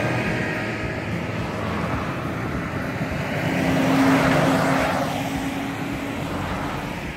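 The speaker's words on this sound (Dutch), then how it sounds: "dan zie ik die helikopter niet meer die aan het taxi was" A helicopter taxiing at an airfield on a hazy, damp day gives a steady, fairly loud engine and rotor drone that swells a little in the middle and then eases, with no voices over it.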